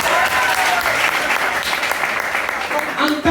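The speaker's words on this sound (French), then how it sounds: "Qu'on applaudit pour le slogan." Dense, loud audience applause fills a live stand-up comedy show in a youth laugh challenge, steady throughout with a voice briefly heard near the end.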